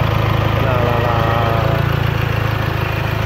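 A 2015 Mazda BT-50 pickup's turbo diesel engine idles smoothly with a steady, even low rumble and regular pulsing, loud and close, while someone talks over it.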